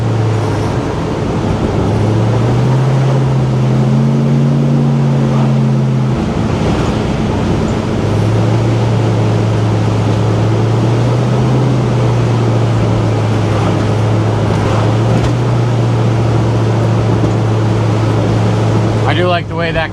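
A 525-horsepower LS3 V8 in a 1971 Pontiac GTO pro touring car drones steadily while driving, its low exhaust note rising and falling slightly with throttle, heard from inside with speech over it.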